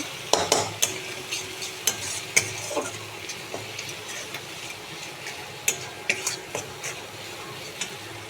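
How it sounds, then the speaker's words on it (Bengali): Turmeric, cumin, coriander and Kashmiri chilli powders frying in a pan for vegetable chops, with a spoon repeatedly scraping and tapping the metal over a low sizzle; no voices. "মশলাটা ভালোভাবে ভেজে নেব"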